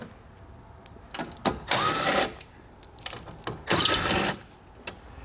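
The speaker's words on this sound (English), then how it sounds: "So I'll just use that T15 Torx bit socket to get those removed." A T15 Torx bit socket on a power driver backs screws out of the front grille edge of a 2017 vehicle: two whirring bursts of about half a second each, separated by quieter clicks and handling noise.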